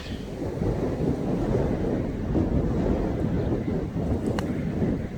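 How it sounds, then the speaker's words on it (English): Strong wind roars continuously into the microphone on a golf course, a dense, rumbling buffeting that swells and eases slightly without a break. "Really strong breeze actually."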